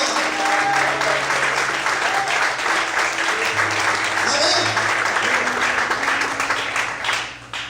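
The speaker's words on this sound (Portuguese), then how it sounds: "Você pode aplaudir o Senhor." Sustained applause from a big church congregation fills the space, steady and full, with a voice underneath, then thins out at the very end.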